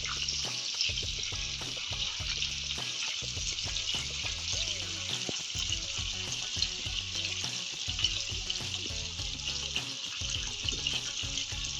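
Food sizzles and crackles steadily in a hot pan for a home-cooked Azerbaijani tava kebab, the frying loud and continuous with scattered stirring clicks and pops throughout, no voices.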